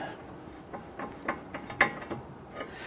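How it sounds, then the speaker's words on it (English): A 21mm wrench works loose a steering rack jam nut on a 2010-2019 Ford Taurus, giving a few faint, close metallic clicks and ticks spread across a brief moment, with no talk. "We're going to use a 21mm wrench. You want to put that on there, and we want to loosen that."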